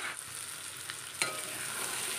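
Cooking water from boiled chickpeas poured into spiced mutton fat frying in a pan, a soft continuous sizzle with one sudden hissing burst midway and light stirring scrapes.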